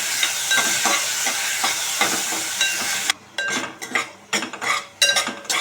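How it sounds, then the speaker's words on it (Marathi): Chopped onion sautéing in a pan, a steady sizzle with repeated metal spoon scrapes and clinks against the pan, the sizzle dropping away halfway as stirring strikes grow louder and more irregular. "आता याच्यामध्ये आपण कांदा घालूया परतायला"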